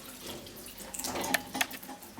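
Water runs from a kitchen tap in a house, a quiet steady splashing stream with a few brighter splatters.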